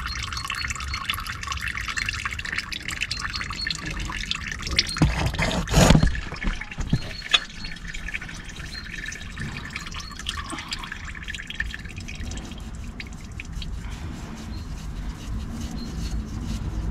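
Engine oil drains from an Opel Astra H 1.8 during an oil change, a continuous trickling stream with a burst of clattering knocks partway through before it settles back to steady flow.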